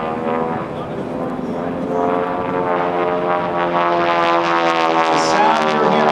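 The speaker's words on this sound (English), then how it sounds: "That growl you're hearing from the engine is the sound of the propeller tips going supersonic" A propeller airplane engine growls loudly and steadily at an airshow, a deep buzzing drone from supersonic propeller tips that rises slightly as it passes overhead after a loop.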